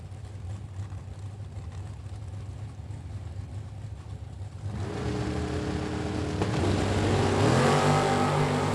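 Oldsmobile Calais and Chevrolet Camaro drag cars leave the line together, with engines rising from a low idle rumble into loud, climbing revs as they launch.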